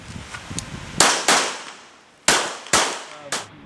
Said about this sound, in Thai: ยิง